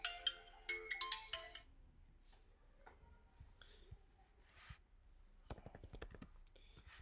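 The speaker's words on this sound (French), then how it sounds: "mon téléphone sonne toujours au mauvais moment" A mobile phone ringtone chiming in a bright melodic burst, then fading as quiet keyboard clicks and scattered taps continue in a quiet room.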